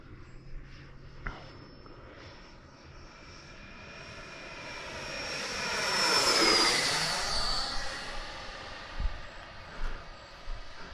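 FMS F-86 radio-controlled model jet flying at about half throttle, its ducted-fan whine swelling as it passes nearby and then fading, heard outdoors with faint background noise.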